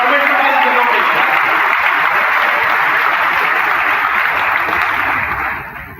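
An audience at a pastors' and leaders' conference claps in sustained, dense applause that carries on loudly for several seconds before tapering off at the end.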